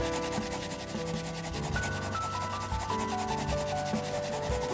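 A drawing is colored in by hand, giving steady, close scratchy rubbing strokes that continue without a break, with faint music underneath and no speech.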